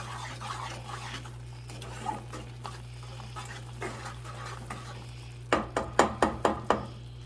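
Candied yams being stirred in a pot on a stovetop, soft scraping and scuffing at first, then a quick run of five or six sharp spoon clacks against the pot near the end, over a steady low hum.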